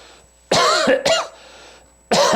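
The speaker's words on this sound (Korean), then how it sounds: "이제 기침까지 오니까 다시 합니다." Three sharp coughs, two in quick succession and one after a short pause, close and loud against a quiet background.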